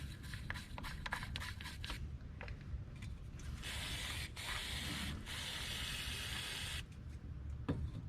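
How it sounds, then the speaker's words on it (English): Throttle body cleaner sprays onto the throttle body of a 2007 Honda Accord, with a close hissing burst lasting a few seconds amid clicks, rubbing and handling noises. "Wanna clean throttle body. Let me spray a little bit more"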